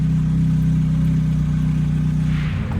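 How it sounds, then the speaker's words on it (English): A Lotus Elise's 2ZZ-GE engine with a Stage 1 ECU tune idles steadily with a low, even rumble that holds constant throughout, with no talking. "Let it idle for 15 minutes"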